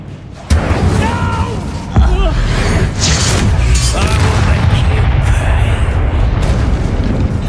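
Incendio and Confringo spell blasts go off in Hogwarts Legacy as loud, booming, fiery explosions that rumble continuously, with voices shouting over the combat din.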